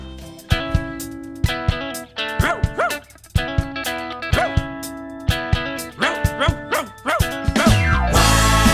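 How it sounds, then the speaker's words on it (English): A cartoon-style dog barks repeatedly in a lively rhythm over bouncy Christmas music in a children's show, sharp yips punctuating the melody. "Wags, it's Christmas Eve. What are you barking for"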